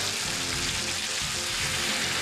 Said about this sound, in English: you want to hear that sizzle as soon as it goes in